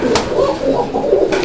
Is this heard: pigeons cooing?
yes